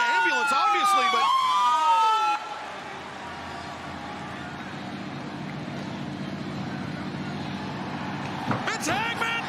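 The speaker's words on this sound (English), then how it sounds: "It's an ambulance, obviously" An ambulance siren wails loudly at a wrestling event, sweeping briefly before cutting off into a steady arena roar, then sounding again near the end.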